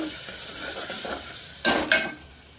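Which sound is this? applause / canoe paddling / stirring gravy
stirring gravy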